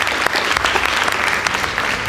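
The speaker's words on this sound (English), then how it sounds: "Give them a round of applause as well." Dense, loud audience applause for the winning team at a high school debate between Mbooni Girls and Nakuru Girls, a continuous crowd of clapping hands heard close with no talk over it.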